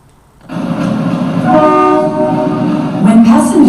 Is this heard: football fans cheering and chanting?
no